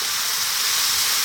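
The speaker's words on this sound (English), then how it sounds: "just add a little bit of water, not too much. And that will burn off and steam" Water hits a hot pan of chicken and broccoli stir fry, giving a brief, loud, steady steaming hiss with no talk over it.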